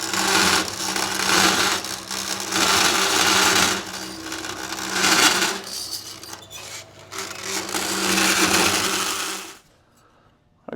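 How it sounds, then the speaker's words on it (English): An old wood bandsaw converted to cut metal runs steadily with a loud, continuous grinding whine as the blade chews through sheet metal for a 1951 Ford truck, then stops abruptly near the end. "This is an old wood bandsaw that was converted to metal."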